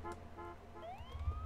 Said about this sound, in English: I like that ambulance.